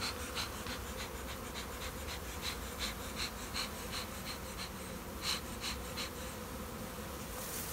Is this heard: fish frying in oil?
no